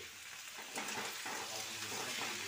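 Aloo posto, potatoes with poppy seeds, frying in a home kitchen pan, a soft steady hiss and crackle at low level, swelling slightly partway through, with no voices.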